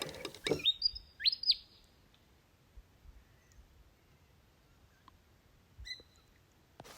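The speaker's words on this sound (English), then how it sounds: "Those birds sound amazing" A few bright bird chirps and tweets burst out early, then sparse single calls sound in a quiet, still background in the Australian outback.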